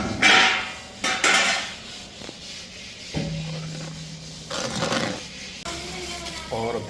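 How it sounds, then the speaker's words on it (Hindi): Mufarrah sheikhurraise ingredients, including pumpkin, cucumber and melon seed kernels, are mixed in a bowl, producing repeated close scraping and clinking of a spoon against the bowl in uneven bursts with short pauses between strokes. "इसके बाद अब हम इसको मिक्स करेंगे।"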